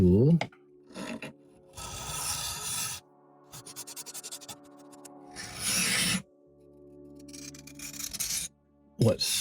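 Hand carving slate: scraping and rasping on the hard stone in repeated strokes, some long and some short and choppy, close to the microphone.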